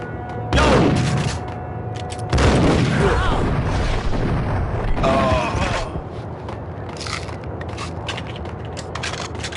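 Gunfire and booming blasts from the Max Payne shooter game, loud, dense bursts starting early and recurring through the stretch, with a voice briefly talking amid the shots.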